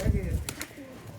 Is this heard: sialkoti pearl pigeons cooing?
yes